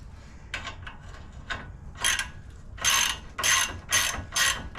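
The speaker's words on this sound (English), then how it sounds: "All right, I got a ratchet." A hand ratchet clicks in short bursts of rapid pawl ticks during Toyota 4Runner brake and CV axle work, close and crisp, the bursts growing longer and louder toward the end.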